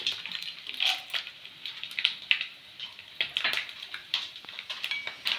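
Chana dal frying in oil with mustard seeds, urad dal and dried red chillies for lemon rice, a faint uneven sizzle with soft popping bursts, nearby and quiet.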